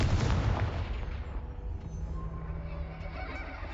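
Explosive blasting spells go off in Hogwarts Legacy: a loud, bright burst that decays into a fading rumble, with a faint tonal ring lingering afterward.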